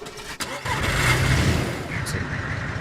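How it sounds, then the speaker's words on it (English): A car engine in the video game DayZ, on a Chernarus map, cranks briefly then catches and settles into a loud, steady running rumble close by. "the noise of this engine man"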